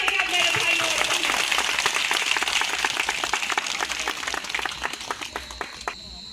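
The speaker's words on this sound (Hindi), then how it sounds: "आप लोग ताली बजाइएगा मेरे भाइयों और बहनों" An audience at a religious gathering in Chhattisgarh claps in a sustained burst of dense applause that thins into scattered claps and fades out at the end.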